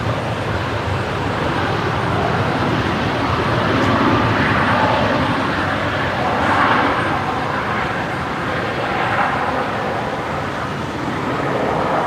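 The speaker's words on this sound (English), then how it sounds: "Jetstar 484 just arrived from Newcastle there, the A320." An Airbus A320 operated by Jetstar, arriving at Brisbane from Newcastle at night, makes a loud, continuous jet rumble that rises and falls gently, with distant traffic noise mixed in.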